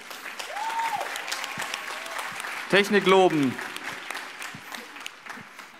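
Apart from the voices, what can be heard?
audience applause at a cosplay contest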